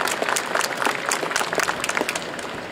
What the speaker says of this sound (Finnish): annetaan Jari Asikaiselle ja Kari Heinoselle raikuvat aplodit.